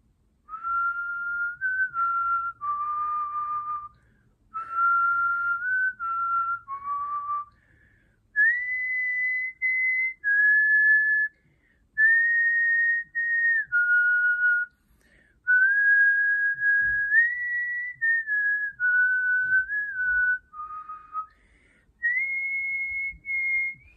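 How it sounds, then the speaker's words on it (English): A lone person whistles the Christmas carol Silent Night in clear, sustained melodic phrases separated by brief breaths, close and quiet with no background. "or actually I'm going to be whistling"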